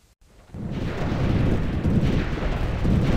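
Enemy fire in Ground Control 2 roars up after a brief gap, a dense, continuous barrage of low booming blasts and crackling rounds that stays loud and steady throughout.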